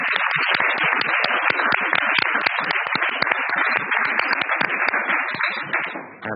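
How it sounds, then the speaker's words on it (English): Conference audience applauds trainee presenters with a dense, even burst of hand clapping, many hands at once in a room, sustained and loud before tapering off at the end. "one last round of applause for all our presenters would be appreciated"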